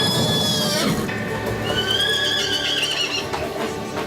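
Horses neigh loudly at close range in a battle scene, with one long, quavering whinny followed by another high, wavering call, set over faint hoof clatter and background commotion.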